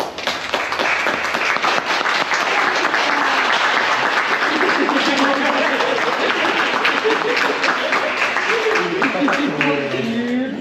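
Warm, sustained applause from a gathered congregation welcoming a newly baptised child named Jules, dense and steady throughout, with voices mixing in toward the end.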